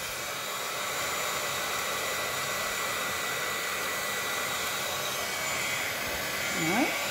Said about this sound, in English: So I'm going to get my little heat tool here. I'm going to heat it up a little bit.